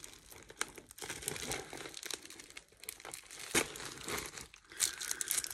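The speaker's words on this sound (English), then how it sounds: "That's one bit of tape off." Adhesive tape is pulled and torn off a parcel, producing close crinkling and crackling bursts with a few sharper rips, fairly quiet and with no voices.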